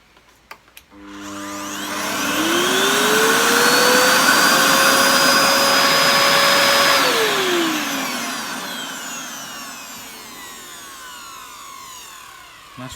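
A Hoover Dust Manager Cyclonic DM6228 cylinder vacuum cleaner switches on after a few clicks, its motor whine rising and settling into a loud steady roar. The pitch then drops away as it runs down. No one speaks.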